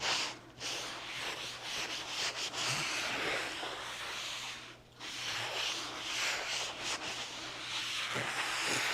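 A sponge rubbing excess paint stain off a wooden round board for an aged finish, giving a continuous close scrubbing and swishing hiss with brief pauses between strokes, and no voices.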